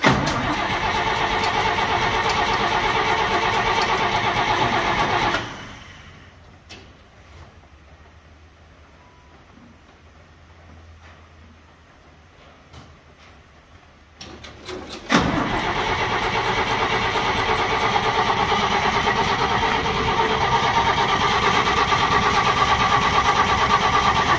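A 1956 International S-160 truck engine, being revived, runs roughly and loudly, cuts out to near quiet for about ten seconds, then turns over and rumbles steadily again.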